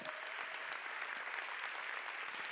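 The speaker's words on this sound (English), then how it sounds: "Can you give her a round of applause?" Audience applause at a motivational talk, a dense, even patter of many hands clapping throughout, fairly faint and heard alone without talk.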